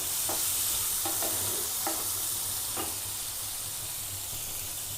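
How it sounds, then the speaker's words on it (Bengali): Corn kernels sizzle and fry in melted butter in a pan, a steady crackling hiss with a few soft clinks of stirring, close and alone without any voices. "একটুখানি বাটার দিয়ে দেবো, দিয়ে যে কর্নটা আছে এই কর্নটা দিয়ে দেবো"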